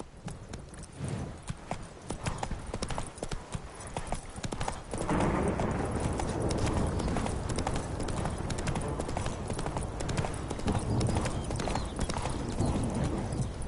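Hooves of Roach, the horse from The Witcher 3, beat a fast, steady gallop. The clip-clop is close and loud and grows heavier and denser partway through, with game ambience running beneath it.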